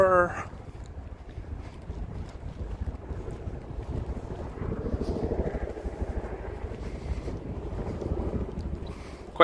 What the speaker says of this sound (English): Quite windy, isn't it?